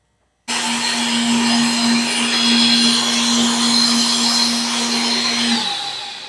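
A kitchen mixer grinder whirs steadily at high speed, grinding onion, garlic and spices into a masala paste; it starts abruptly, runs loud and continuous for about five seconds with a sustained motor hum, then slightly winds down.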